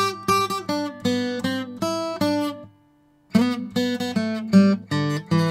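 A beginner plays guitar in a string of short, choppy notes with little sustain, each clipped off quickly. A brief silent gap breaks the run before more clipped notes follow, close and clear.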